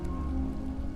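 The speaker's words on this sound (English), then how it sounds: "I don't know if you can hear the rain or if my mic catches the sound of the rain" Rain falls in a steady, dense hiss with a low rumble beneath it, continuous and even throughout, with no voices over it.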